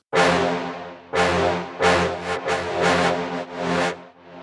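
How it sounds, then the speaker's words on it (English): A brass tone broken into overlapping, smeared grains that swell and stutter in uneven pulses, giving a textured, shimmering effect, loud and upfront. "Almost like a granular engine there."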